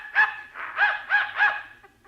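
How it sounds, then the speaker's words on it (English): A dog barks in answer to a silent dog whistle, four quick, bright, close barks in a row with a short tailing yelp, loud and alone with no talking. "The dog heard it, but I didn't."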